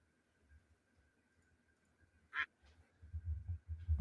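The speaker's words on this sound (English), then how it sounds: "You still might hear another quack every now and then." Ducks give a single short, loud quack near the middle, with low rumbling and muffled activity building toward the end.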